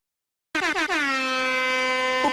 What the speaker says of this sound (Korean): 쇼타임 SBS 정치쇼 1부가 힘찬 에어혼 소리 함께 시작했습니다